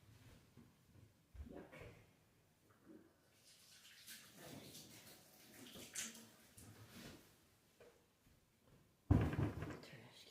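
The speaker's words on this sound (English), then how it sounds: "And now I have to rinse my hand." Tap water runs in quiet, faint bursts while hands are rinsed under it at a sink, with soft splashing and a louder gush near the end.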